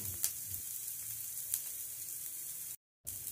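Carrot, capsicum and chopped green chilli sizzle steadily in a pan with light stirring, a soft hiss broken by a couple of brief scrape accents and a short dropout of silence near the end.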